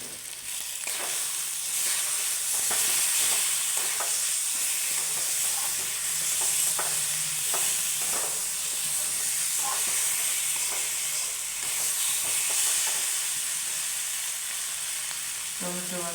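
A spice paste fries in a pan with salt added, making a continuous close sizzle and hiss broken by repeated scraping stirs.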